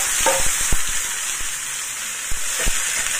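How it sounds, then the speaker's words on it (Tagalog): Chicken frying in a pan with shallot and garlic, a loud, steady hiss of sizzling oil with occasional sharp clacks of a utensil stirring, close up and without talking. "So i-fry lang natin yan hanggang sa maging brown yung ating chicken"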